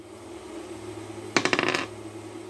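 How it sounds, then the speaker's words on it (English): Dice are rolled during a tabletop game, a quick burst of sharp clattering clicks lasting about half a second as they tumble and settle against a quiet background hum. "And now you keep winning dice rolls."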